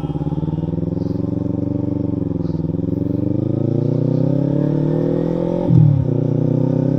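A Kawasaki Ninja 300 motorcycle running low on petrol idles close by with a steady engine drone, then revs and pulls away, the pitch climbing as it rides off.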